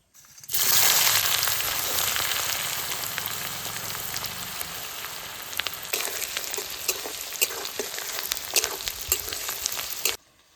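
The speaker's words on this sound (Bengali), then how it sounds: "তো ভালো করে পেঁয়াজটা ভেজে নেব" Loud, continuous sizzling of chopped onions frying in a pot, with scraping stirs growing more frequent before it cuts off.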